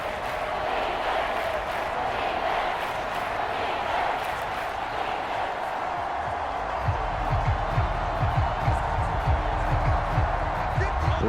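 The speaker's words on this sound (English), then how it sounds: "This crowd turning up the decibel level" A packed NFL stadium crowd at Commanders Field in Washington, during the fourth quarter of a game against the Philadelphia Eagles, roars in a steady, loud wash that swells toward the end, with a commentator talking over it.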